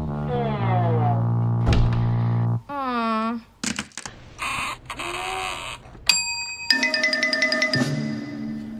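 A small hand bell rings in quick repeated strokes during the last couple of seconds, following a busy run of cartoon sound effects.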